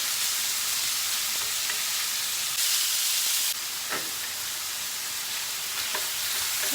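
Chopped lamb meat sizzles loudly and steadily in a hot sac pan, a constant hiss with occasional soft clicks of stirring and no voices.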